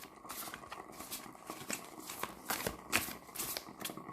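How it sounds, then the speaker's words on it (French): Tarot cards shuffled and drawn from a deck, a quick run of papery riffles and flicks in an uneven rhythm, close and moderately loud with no talking. "Donc, on va tirer 3 cartes."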